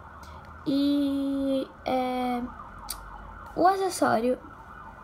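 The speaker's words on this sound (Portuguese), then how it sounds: "tá passando uma ambulância" An ambulance siren passes outside, its wailing and yelping tones coming in separate bursts, muffled and moderately distant, with a brief spoken remark indoors.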